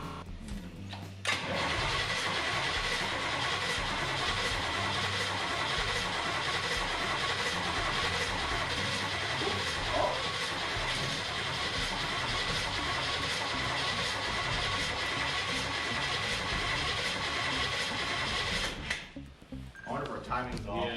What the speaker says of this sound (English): we can give it a quick test start and see if it still runs